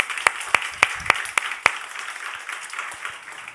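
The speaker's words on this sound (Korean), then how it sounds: "마음으로 보이시고 뜨거운 박수 한번 보내주십시오" Congregation at a church service responds with applause: six sharp, evenly spaced claps ring out near and loud over a faint room murmur, then the clapping thins away.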